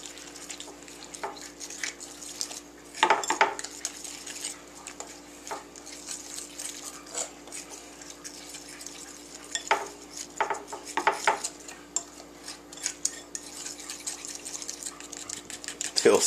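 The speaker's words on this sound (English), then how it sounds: "I'll see how this stuff mixes up." McCormick batter mix stirred with water in a bowl, giving a steady close wet churning and scraping that runs throughout, with occasional sharper clinks of the utensil against the bowl.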